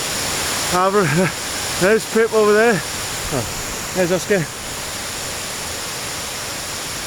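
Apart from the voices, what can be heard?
river rushing at a river crossing on Scafell Pike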